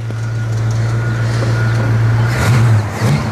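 Steady loud engine drone with a rise in pitch near the end, like a car engine revving up, heard alone without talk.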